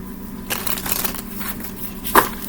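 A deck of tea leaf fortune cards being shuffled, a steady papery riffle running throughout with a louder flutter near the end, close and alone.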